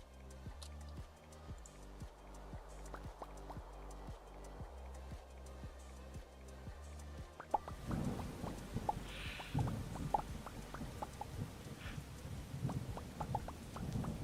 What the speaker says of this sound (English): I could tell that it was starting to rain because the game lagged